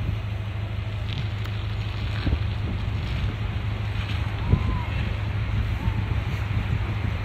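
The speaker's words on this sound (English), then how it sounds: "that wind is really pushing us pretty good" Wind rushing steadily over the microphone from aloft above ski resorts, a constant loud low roar and buffeting with a droning hum underneath, no clear talking.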